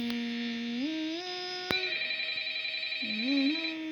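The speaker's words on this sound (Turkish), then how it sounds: "Telefon çalıyor." Telephone in the Five Nights at Freddy's video game ringing with a clear, steady electronic tone that rises and holds in pitch, a sharp click partway through, faint in the background.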